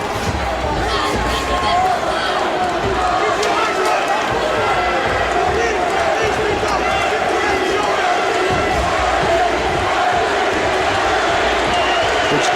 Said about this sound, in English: The crowd starts chanting Frankie.